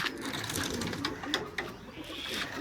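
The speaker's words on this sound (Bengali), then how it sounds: "ভাই এটা হলো খামার কবুতর মার্শাল্লাহ খুব সুন্দর বড় কবুতর আছে এখানে" Pigeons cooing at a pigeon farm holding large birds, soft overlapping coos close by in a steady murmur with no talk.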